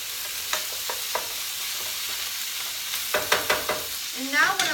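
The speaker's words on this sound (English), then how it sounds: "Okay, stir that up." Tomato mixture for bruschetta stirred in a pan over heat, with a few scraping spoon strokes, a steady low sizzle underneath and a brief clatter near the end; no talking.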